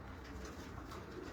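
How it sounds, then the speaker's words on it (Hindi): Pigeons cooing continuously in a loft of fancy show pigeons from Bahawalpur, a soft steady burbling murmur with no voices over it. "बहुत ही आला कबूतर है, परफेक्ट कबूतर है माशाल्लाह"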